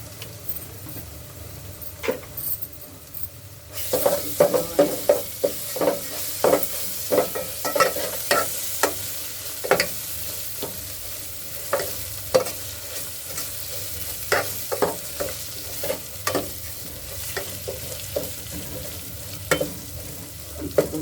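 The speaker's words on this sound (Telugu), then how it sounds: "అల్లుల్లి వేసుకొని" Ginger garlic paste with turmeric sizzles in hot oil for a Telangana-style mutton curry, with steady crackling and frequent stirring scrapes that start after a few quiet seconds and continue to the end.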